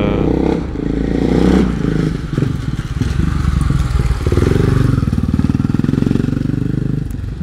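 A 500 motorcycle starts its first real test ride around a dealership, the engine running loud and close throughout with a steady, throbbing idle that rises in several revs, alongside some clattering.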